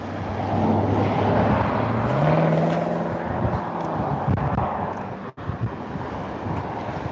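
Wind blowing outdoors beside a road, a loud, steady buffeting roar across the microphone that holds throughout, with a passing vehicle's rising and falling drone blended underneath and a brief dropout near the end.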